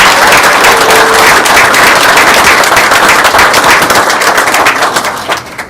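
An audience at a borough public meeting gives a round of applause, a loud, dense wash of many hands clapping close by that carries on steadily and then trails off at the end.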